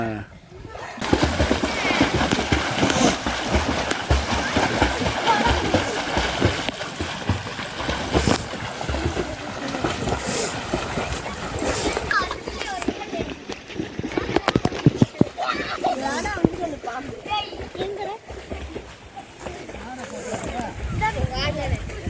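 Village children splash and thrash in a pond in Sayalgudi while bathing, with continuous choppy water noise, nearby shouting and chatter throughout.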